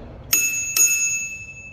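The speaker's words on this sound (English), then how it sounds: "A bell." Two quick rings of the handlebar bicycle bell on a MAGICYCLE Deer 20-inch step-through electric bike, bright and close, each ding ringing out and decaying over about a second.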